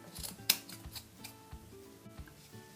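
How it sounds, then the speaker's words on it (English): Quiet scissor snips cut through folded yarn loops to form a pom-pom for a ribbed knit hat, with one crisp cut early on followed by softer, irregular clips. "So just go through all of the folds and just cut them in half."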